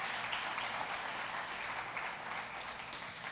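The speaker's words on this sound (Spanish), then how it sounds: "dale un aplauso a Dios" Church congregation applause: a dense, continuous wash of many hands clapping, steady and fairly distant, with no distinct voices standing out.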